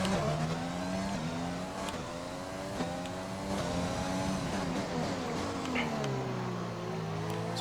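A Formula 1 race car in a video game at the Canadian Grand Prix on a wet track, its engine droning and shifting pitch steadily up and down through gear changes, constant and fairly loud without speech.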